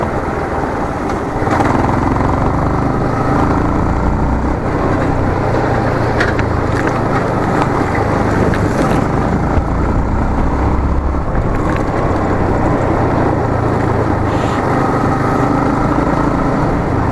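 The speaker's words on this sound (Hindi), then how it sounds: "बाकी बाइक का साउंड जो है वो बहुत ही लाउड है" A Yamaha MT15 BS6 motorcycle with a cut exhaust runs loud and close, a continuous rough engine drone with popping, throbbing pulses that holds steady the whole time with no talking.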